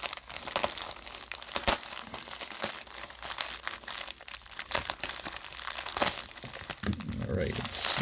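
Plastic bag of 90% silver coins being cut open, close crinkling and tearing of the plastic with faint rustles throughout.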